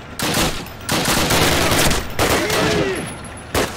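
Bursts of gunfire crack close and loud in the Call of Duty United Offensive video game. Several sustained volleys are broken by short pauses, with a final sharp shot at the end.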